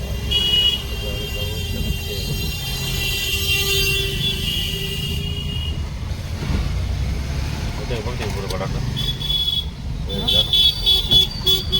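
Heavy road traffic on a busy Indian street during the Ganpati festival, a dense rumble of engines with car horns tooting near and far, while people talk over it.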